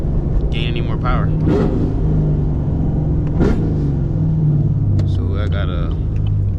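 Engine of a manual Chevrolet Camaro SS 1LE rumbles steadily while driving at night, with brief rising rev swells; a person talks over it throughout.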